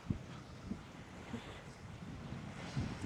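Steady wind gusting across an open shoreline by a kite school, a continuous low rumble with buffeting on the microphone and no voices.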